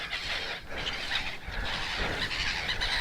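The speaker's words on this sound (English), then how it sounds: "So all these seagulls here are actually nesting." A colony of nesting seagulls calls continuously outdoors, a dense, overlapping chorus of squawks and cries with no voices.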